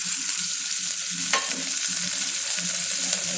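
Onions and ginger paste sautéing in a pan for mutton gravy, a continuous close sizzle with soft stirring scrapes and one sharper clink partway through, no one talking.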